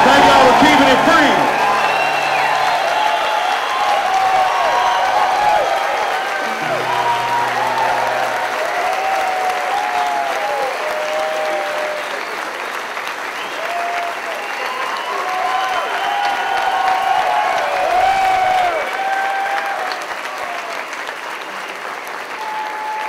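Crowd at a 2006 country concert applauding and cheering, a dense sustained wash of clapping with whoops, mixed with a voice over a sound system, staying loud for the whole stretch.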